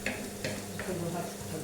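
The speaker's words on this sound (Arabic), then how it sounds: "رانا نقلو البصله تاعنا" Chopped onions fry in a hot pan with a steady, close sizzle, broken by a few short scraping stirs.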